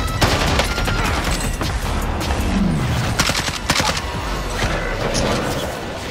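Rapid, dense video game gunfire crackles in continuous volleys of loud close shots and bursts, without a break, alone in the mix.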